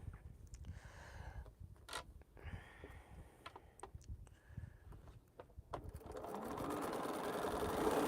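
A sewing machine stitches a quilt block seam in fast, steady bursts with short pauses between runs, close up and fairly quiet, building into a denser, continuous whir near the end.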